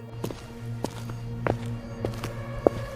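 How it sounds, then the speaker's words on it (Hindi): Slow, spaced footsteps from a horror story sound effect tread steadily over a low, eerie musical drone, with one sharper step near the end. "बस उसके पैरों की आवाज आ रही थी"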